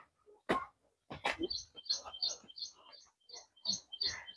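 Morning birdsong at Nandi Hills: a bird repeats short, bright chirping phrases in a quick series, with a couple of sharper calls at the start, fairly close against quiet surroundings.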